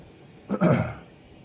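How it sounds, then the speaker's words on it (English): A single short throat clearing with a cough-like burst during a live glassblowing session, close and fairly loud against a quiet background, lasting under a second. "I'm so sorry for coughing or clearing my throat"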